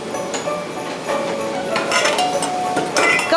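Sugar, flour, cinnamon and nutmeg get stirred together for apple pie at an apple farm, with light clinks and scrapes of a utensil against a bowl, close and moderately loud.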